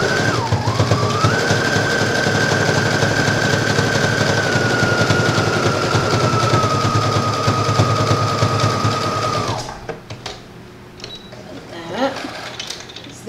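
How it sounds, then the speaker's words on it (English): A sewing machine runs a steady stretch stitch along a dress seam, a loud continuous whirring hum with a sustained motor whine, then stops abruptly near the end, leaving quieter handling noises. "And I'm going to stretch stitch this too."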